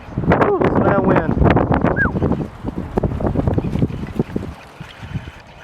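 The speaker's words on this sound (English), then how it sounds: "listen to that wind" Strong gusty wind is heard outdoors during a Christmas light install on a Subaru, roaring and buffeting against the microphone, with a voice speaking briefly over it at the start.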